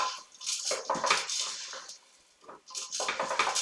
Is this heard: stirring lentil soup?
yes